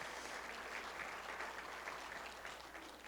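A civic gathering at a State of the City event applauds the Park Commission chair, a dense, even wash of clapping from a crowd in a hall, steady for a few seconds then easing slightly.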